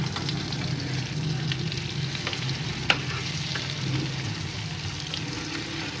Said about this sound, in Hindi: अब ये यहाँ पे टिक्कियाँ फ्राई होनी शुरू हो गई हैं